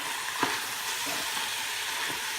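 Browning meat with onion and garlic in an Instant Pot: a continuous hiss of frying with a few soft scraping stirs of the spoon, close and moderately loud, no voices.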